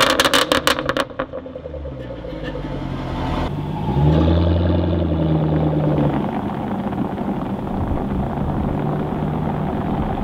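A Jaguar F-Type R coupé's V8 engine revs up from a burbling idle into a rising, sustained roar that swells and holds, loud and close, after a brief rattling start.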